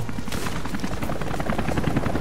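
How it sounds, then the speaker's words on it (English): A helicopter in the video game Rise of the Tomb Raider, a steady loud rhythmic rotor thumping mixed with dense game action noise and bursts of gunfire. "Oh, the heli."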